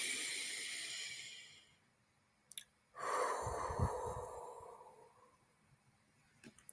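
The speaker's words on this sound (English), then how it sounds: "Try to extend your exhale." A single person takes a short, quiet inhale and then lets out a long, breathy exhale that slowly fades. The sound is close and soft, with no talking.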